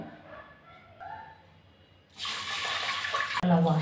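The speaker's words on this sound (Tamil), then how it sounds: "நல்லா வாஷ் பண்ணி எடுத்துக்கலாம்." Horse gram is washed in water, first with quiet handling, then a sudden loud rush of running, splashing water near the end.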